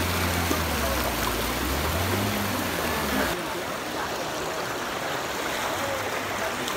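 A waterfall at Harnoi near Abbottabad pours in a constant, broad rush of water. A voice is briefly audible underneath during the first half, then the flow continues alone.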